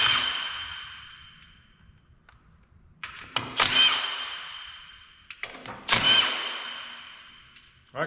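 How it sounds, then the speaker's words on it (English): An impact wrench spins out bolts on an Allis tractor during a repair, firing two or three loud, sharp bursts that ring and decay between pauses, with no one talking. "How long can it take out 6 bolts when you got a fancy little impact wrench here?"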